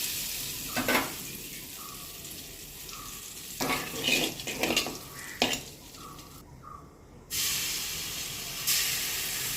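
Marinated chicken frying in butter in a pan on medium flame gives off a steady hiss and sizzle, swelling in a few louder bursts as it is stirred, with no voices.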